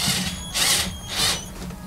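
A Wakyme cordless power drill driver drives a screw in two short whirring bursts, close and loud, the motor spinning up and easing off between them.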